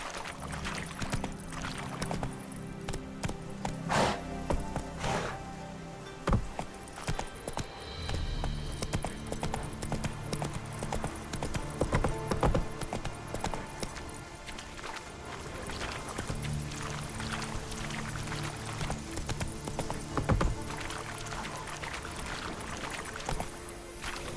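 Roach, the horse in The Witcher 3: Wild Hunt, gallops with rapid clip-clop hoofbeats under a dense bed of game music and ambience.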